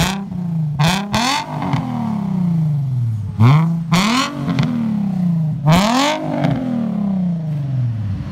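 A 2007 Nissan 350Z with an aftermarket exhaust revs three times in quick bursts, each blip rising sharply then falling off into a loud, throaty idle, recorded close up with no talking.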